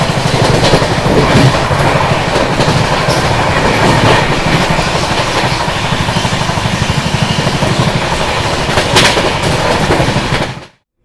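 The Chennai Duronto Express rolls along the tracks, heard from on board as a loud, steady roar with rhythmic clickety-clack of the wheels that cuts off abruptly at the end.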